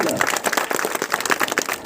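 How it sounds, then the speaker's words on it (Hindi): A crowd at a political meeting in Rasra claps to welcome a guest, a short burst of dense, steady applause with voices mixed in. "जोरदार ताली बजा के स्वागत करेगा"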